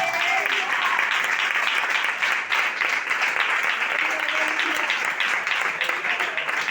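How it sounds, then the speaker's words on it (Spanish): A church congregation applauds together in sustained, dense clapping, loud and steady throughout with no pauses. "Dale un aplauso al Señor."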